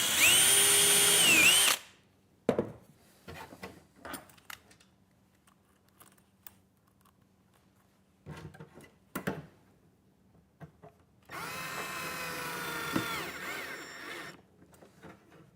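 A power drill pre-drills and drives screws into wood while a lid for a Trelino toilet cabinet is built, with loud whirring bursts at the start and again near the end, separated by quieter handling clicks and knocks.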